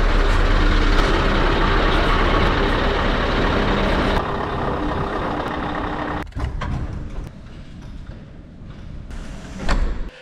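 A freshly washed Volvo truck's engine rumbles close by, loud and steady for about four seconds, then softer, with a few knocks and clunks and a louder burst near the end.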